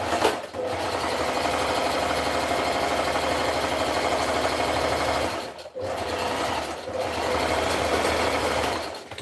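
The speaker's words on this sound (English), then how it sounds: "So once I'm done stitching one, I just go ahead and zigzag as well" A sewing machine runs steadily, zigzag stitching the inner seam of African print pants, its motor whirring close and loud with a rapid even needle rhythm, pausing briefly twice before resuming.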